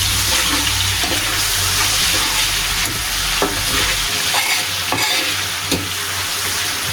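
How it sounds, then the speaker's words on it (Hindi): Tomatoes are stirred into dhaba-style chana dal in a hot pot, with a steady loud sizzle and frying hiss and a few scraping knocks of the spoon against the pot. "इसमें हमने ये टमाटर डाल देना। इसको अच्छे तरीके से हिला लेते हैं।"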